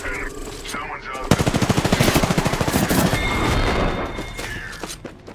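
Rapid automatic gunfire in Apex Legends Season 7 on the Olympus map, a loud, steady stream of close shots lasting several seconds after a quieter opening, with game effects and sounds continuing as the firing tapers.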